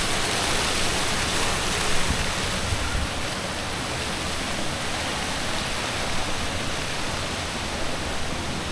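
River water flowing steadily past a spring resort in Casandig, Paranas, Samar, a dense continuous rush with no pauses, close and fairly loud, with a brief bump of louder splashing near the two-second mark.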